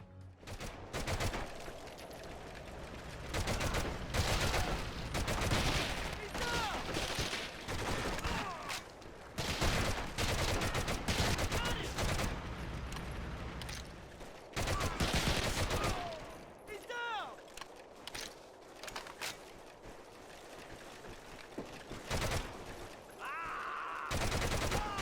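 Gunfire from the PSP shooter Medal of Honor Heroes, with bursts of rapid automatic fire and heavy single shots in loud, dense clusters, broken by short quieter gaps with scattered game sounds.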